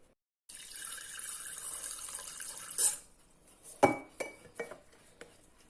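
Water being poured out and measured for a corn bread dough, a steady close pour that stops, followed by a few light clinks of a container or utensil on a kitchen surface.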